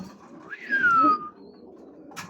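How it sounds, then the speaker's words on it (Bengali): Pigeons in a home loft, including Falcon and Silver Main racing birds, give a single close, soft coo that swells briefly and fades, with quiet background rustle around it. "এদিকে 2টা কবুতর আছে"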